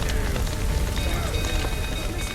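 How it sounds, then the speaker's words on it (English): Rain in the Witcher III: Wild Hunt game world makes a dense, steady patter and hiss with a constant low rumble underneath, with no talk. "Looks like rain."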